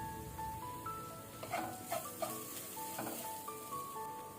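Onions sizzling and frying in a pan as turmeric is added for a tempering, a steady hiss close by with a few soft stirring scrapes, and no talking.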